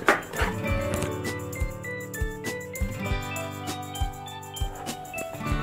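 A spoon stirs semolina and sugar in a pot for a Layali Lubnan dessert, giving a steady run of light clinks and scrapes against the metal, close and fairly even, with no talking.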